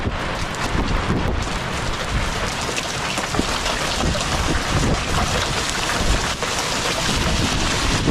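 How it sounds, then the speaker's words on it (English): Heavy rain and hail pound down during a summer thunderstorm in southeastern Wyoming, a dense, steady roar of drops and hits with gusty wind buffeting the microphone throughout. "you could really hear the rain and the hail coming down there"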